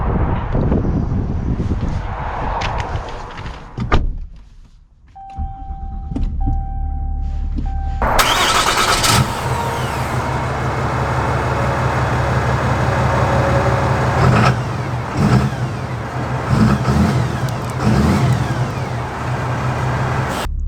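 A 2021 Ram 2500 Prospector XL heavy-duty pickup truck, with a brief mechanical start and then a steady engine hum while driving, close and continuous with a low rumble and no talk.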